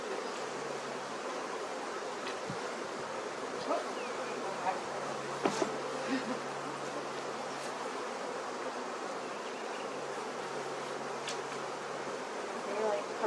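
Live honey bees at a honey farm under bee-kill inspection drone in a steady, dense buzz throughout, with scattered brief knocks and rustles and faint voices in the background.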